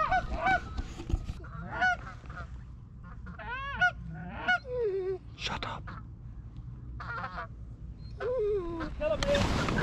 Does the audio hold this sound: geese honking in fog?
yes